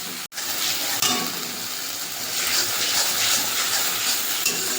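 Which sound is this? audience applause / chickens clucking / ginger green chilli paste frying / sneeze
ginger green chilli paste frying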